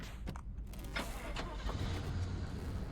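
A car engine starts in a video game, a muffled cranking followed by a low running rumble, steady and moderately quiet with a faint clunk or two at the start.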